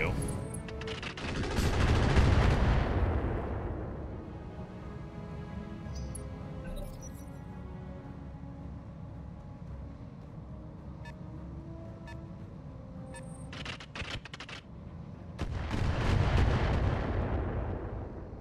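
Weapon fire and artillery in the Roguetech BattleTech mech video game: heavy booming blasts at the start and end with scattered sharp shots and rumbling in between, loud and close.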